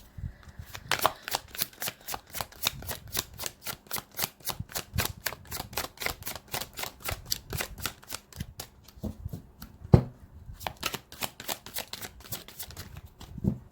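A deck of angel oracle cards is shuffled close up in a long, steady run of crisp riffling flicks. The soft card slaps come quickly and evenly, with a sharper tap near the end.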